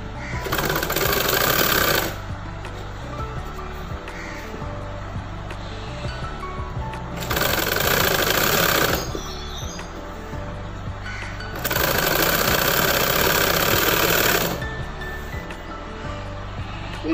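A sewing machine stitches the seams of a boat neck chudidar in bursts, its steady whirring motor running loud and close in three long runs with quieter pauses between them.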